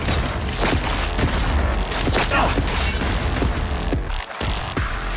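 Rapid gunfire in Cyberpunk 2077 rattles out in loud, dense bursts of sharp shots during a heist mission, packed closely together with a brief lull near the end before firing resumes.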